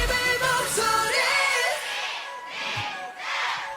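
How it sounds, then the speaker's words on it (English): A crowd chants and roars during a live performance. The dense, swelling noise rises and falls in waves over tonal stage music and stays loud throughout. "I love that crowd chanting."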